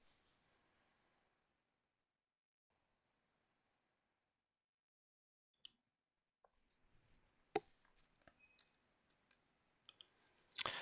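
Faint, sparse mouse clicks from a computer mouse, a few isolated clicks then a quick cluster of several near the end, against near silence.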